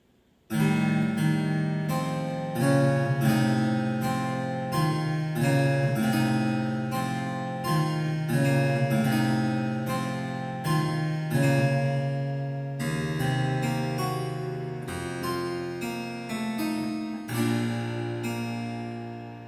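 Roland C-30 harpsichord played in modern equal temperament, a steady run of bright plucked notes and chords with crisp attacks and a slow fade near the end, heard alone without talk.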